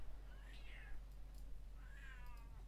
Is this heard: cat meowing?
yes